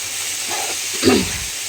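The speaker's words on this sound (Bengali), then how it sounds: "মাকে বলেছি একটু চিকেন আনতে কুচো কুচো করে আর ডিম আনতে তো এগুলো আমি ভেজে রাখছি" Chopped chicken and egg fry in a pan with a continuous close sizzle, and a brief louder scrape or stir comes about a second in.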